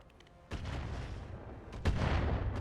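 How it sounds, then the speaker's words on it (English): Artillery strike in the RogueTech mech game: two heavy booming impacts about 1.4 seconds apart, each a sudden loud blast followed by a long rumbling decay, with no voices. "We're going to drop artillery on the Stalker right now and soften up its armor."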